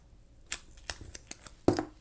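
Scissors trim a planner sticker in a few quick, crisp snips, the last one the loudest, each cut close and clear with quiet pauses between them.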